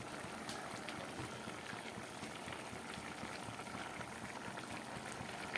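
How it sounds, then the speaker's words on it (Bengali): A pot of mixed vegetable ghyat curry with drumsticks bubbles steadily on the stove, a continuous soft simmering hiss with small pops, close and fairly quiet. "সবজিটা ফুটে উঠেছে।"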